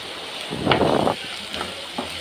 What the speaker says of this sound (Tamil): எல்லா மாங்காய் துண்டுகளையும் அதில் சேர்த்ததுக்கப்புறம் லைட்டாக அதை கிளறி விடுங்க எண்ணெயில்